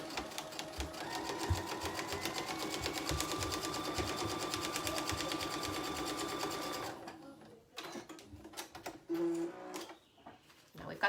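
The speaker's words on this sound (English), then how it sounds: "So I'm gonna stitch this down." A sewing machine stitches paper-pieced quilt fabric in a steady, rapid mechanical chatter for about seven seconds, then stops, followed by quieter handling noises and brief talk.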